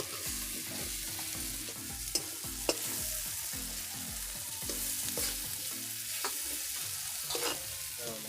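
Turmeric and chili powder frying in a pan while being stirred, a continuous close sizzle broken by scraping strokes and a couple of sharp clicks of the spatula, no talking.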